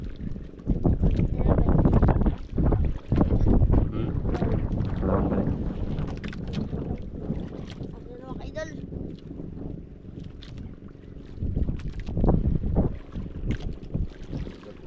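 A boat motoring on open water amid strong wind noise and splashing, with people talking over the steady engine drone.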